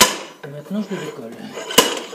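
A homemade inertia extractor screwed into the end of a gear reducer on a prototype Holder AM2 machine, giving short metallic clanks as the part is knocked loose, ending in one sharp, loud strike.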